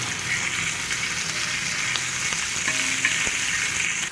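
Pieces of chicken fry in a pan with a steady, dense sizzle and occasional soft clicks and stirring scrapes, close and continuous.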